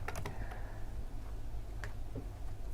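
A command being typed on a computer keyboard: a few scattered, quiet, close key clicks with gaps between them over a low steady background hum, no voices.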